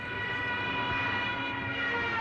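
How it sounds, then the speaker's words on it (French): A Stuka dive bomber's siren wails loudly and steadily in a dive, a sustained harmonic howl with no break across the whole stretch. "le piqué des Stukas avec leurs sirènes"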